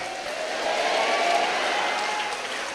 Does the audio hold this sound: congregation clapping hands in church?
yes